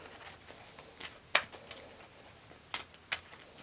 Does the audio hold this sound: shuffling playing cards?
yes